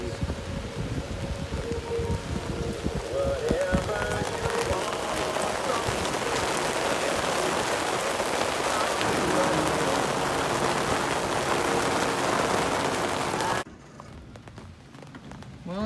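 Heavy rain pours steadily onto a boat during a thunderstorm, a dense, loud and continuous drumming that stops abruptly near the end, leaving a quieter patter.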